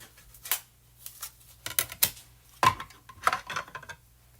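A small mini die-cutting machine cutting out a shape for a foil craft project, heard as a series of sharp clicks and clacks at irregular intervals, close and fairly loud.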